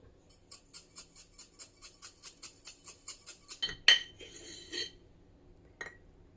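A utensil chops and mixes a pound of raw ground beef seasoned with pepper, salt, egg and collagen in a bowl: a quick, even run of metallic clinks, then a few louder scrapes and knocks, close by and with no talk.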